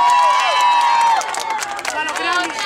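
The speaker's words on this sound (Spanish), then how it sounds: "Aplaudir como si hubiera molado." A lively crowd claps and cheers at a game show, with loud overlapping voices and hand claps. Excited shouting dominates before the noise settles slightly.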